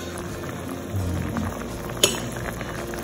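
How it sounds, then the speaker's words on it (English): Beach plums boiling in a pot of water for jelly, a soft steady bubbling and simmer hiss with a single sharp clink of a utensil against the pot partway through. "So it's boiling and boiling and boiling, and that's what we need it to do."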